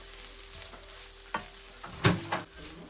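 Masala fries in a pan for a curry under a low, quiet sizzle, broken by a few sharp scrapes and knocks of a stirring spoon, the loudest around the middle of the stretch.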